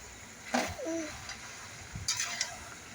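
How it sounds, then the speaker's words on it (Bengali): Chickpeas fry in a pan with coriander leaves as they are stirred, making a soft, low sizzle with light scraping. A faint bird coo sounds in the background and no one speaks. "ভালো করে নেড়ে চেড়ে মিশিয়ে নেব আমি এটাকে"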